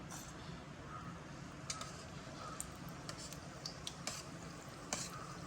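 Steady, dense sizzling of vermicelli snack batter frying in hot coconut oil in a small pan, with a few sharp clinks of a spoon against the pan.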